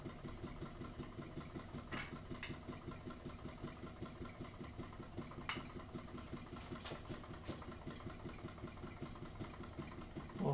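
A greatly improved Ringbom Stirling engine runs on a wick flame while powering a set of 20 large LEDs, giving off a quiet, steady, rapid mechanical ticking and chuffing at even speed with no voices.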